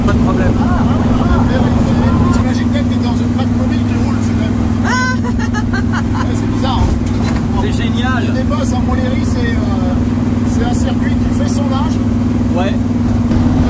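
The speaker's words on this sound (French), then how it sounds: "T'imagines quand même que t'es dans une Batmobile qui roule" A Batmobile replica car drives on the Montlhéry circuit with a low, steady engine drone heard from inside, while people talk loudly over it throughout.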